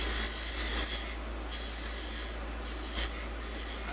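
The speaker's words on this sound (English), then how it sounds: "So now I'm reducing my cut. I'm just taking off little bits of sawdust here." A wood-turning lathe makes a light finishing cut on a wooden chess pawn, shaving off fine sawdust with a steady, close scraping hiss and a faint rhythmic pulse from the spinning workpiece.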